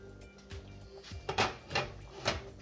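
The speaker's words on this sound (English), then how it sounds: "we're gonna take off this lid, let out all that steam" A lid is lifted off a pot of boiled potatoes on the stove, giving several short, close metallic clanks and knocks spaced over a couple of seconds in a quiet kitchen.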